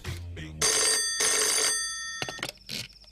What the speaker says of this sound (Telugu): ఒక్క నిమిషం సార్, ఫోన్